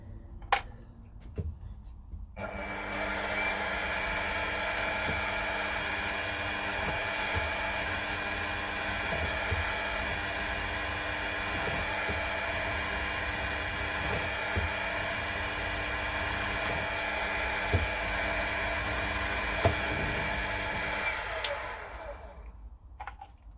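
Small drill running steadily while a special tap wrench is made, a continuous mid-pitched motor whine holding for about twenty seconds with faint clicks and knocks from the work, no talking.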